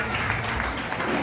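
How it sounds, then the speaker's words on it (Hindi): Audience applause for a mother at a motivational speech event, a thick continuous patter of many hands clapping, heavy and close, with some voices blended in underneath. "तालियां कीजिए माता जी का।"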